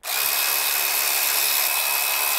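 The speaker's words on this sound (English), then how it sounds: "let's get some tools and start taking things apart" A power tool whirs continuously at close range while bolts come off a Ducati Panigale V4 Speciale during a 520 chain conversion, a loud, steady, high-pitched whine starting abruptly and holding without pause.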